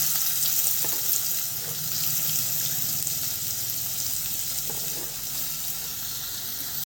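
Chopped onions frying in hot oil, a steady close sizzle with occasional faint scrapes of stirring throughout.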